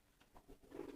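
A domestic pigeon in courtship mode gives a short, low, throaty coo, a soft rolling burble that swells near the end, close by and quiet, with no talking.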